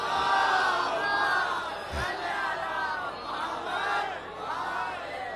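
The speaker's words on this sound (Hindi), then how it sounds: "आप हज़रात से दरख्वास्त है बाआवाज़ बुलंद नारे दुरूद से इस्तक़बाल फरमाएँ।" A crowd at a religious gathering loudly chants durood salutations in unison to welcome a guest, a steady swelling roar of many voices with rising and falling phrases.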